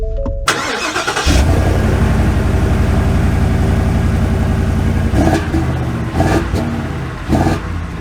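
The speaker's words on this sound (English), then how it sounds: "let's take the trucks out and see how they drive" 2024 Ford Super Duty pickup trucks, Power Stroke diesel and Godzilla gas V8: an engine cranks and fires, then settles into a loud, close, steady rumbling idle with a few revving surges.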